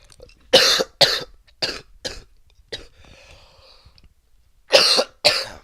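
A person with a bad chest cold coughs repeatedly, close and loud, in a run of harsh bursts, pauses, then coughs twice more.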